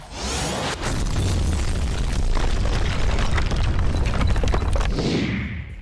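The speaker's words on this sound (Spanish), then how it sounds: "El monstruo explotó." Godzilla exploding in a film, a long, loud, rumbling blast that swells quickly and sustains with crackling debris before fading with a closing whoosh.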